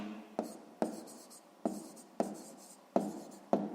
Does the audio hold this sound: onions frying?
no